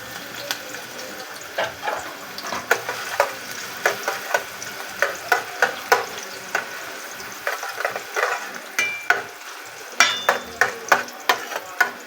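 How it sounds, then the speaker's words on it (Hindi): Onions sizzle in hot oil with a bright, crackling hiss, punctuated by repeated sharp clinks of a spoon stirring the pan. "अब हम इसमें थोड़ी सी अपनी प्याज ऐड करेंगे।"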